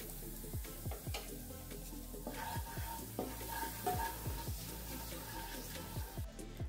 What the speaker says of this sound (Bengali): তেল গরম হয়ে গেছে, এখন আমি দিয়ে দেবো 2টো তেজপাতা।